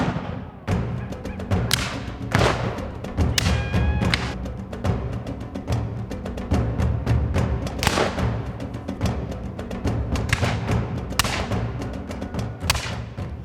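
Historical reenactors fire period weapons at Loxahatchee Battlefield Park, a Second Seminole War site in Palm Beach County, Florida: a steady run of loud, sharp reports and heavy thuds, some overlapping, with no talk.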